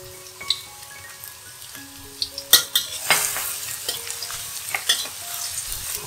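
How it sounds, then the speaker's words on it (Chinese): Carrot shreds stir-fried in hot oil in a wok, with a soft steady sizzle broken by sharp scraping clatters of the spatula, loudest around the middle, no talk. "倒入适量的油，待油热后放入红萝卜丝炒一炒"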